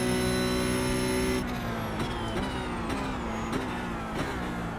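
Race car on the Magny-Cours circuit in the iRacing sim, a loud high engine whine that cuts off into lower revving with repeated gear-shift blips as it exits a corner, with no voices.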